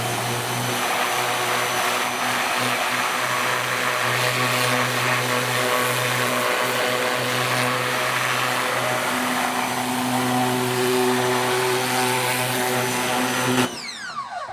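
Pressure washer spraying a car engine bay gives a loud, continuous droning hum with broad hissing spray, holding steady throughout before cutting off abruptly near the end.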